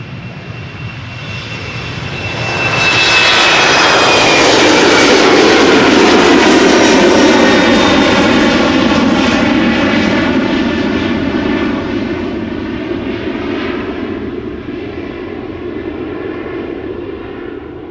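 A KLM City Hopper airliner takes off from the Polderbaan runway at Schiphol, its engines building to a loud, close roar with a rising whine, then slowly fading as it climbs away.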